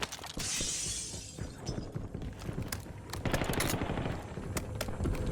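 Call of Duty Warzone gunfire rattles in rapid automatic bursts and single cracks, mixed with mechanical clicks and shattering impacts, loud and dense throughout with no talking.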